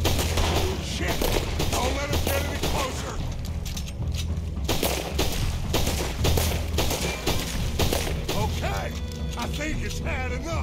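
Gunfire from a Red Dead Redemption 2 shootout, with dense overlapping shots and mechanical clatter over a loud game soundtrack, sharp bursts recurring throughout.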